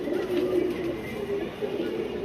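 Soft, low cooing of Punjabi pigeons repeats in a steady murmur, close by, with faint background hiss and no talking.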